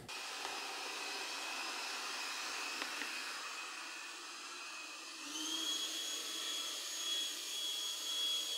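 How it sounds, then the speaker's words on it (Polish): A RoboJet X One 2 PRO robot vacuum cleaner runs with a steady high whine, then shifts to a louder, higher motor tone partway through as its power rises. "Odkurzacz wjeżdża na dywan"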